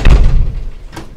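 A heavy classroom door slams shut with a loud close thud at the start, followed by a fading rumble and a fainter second knock.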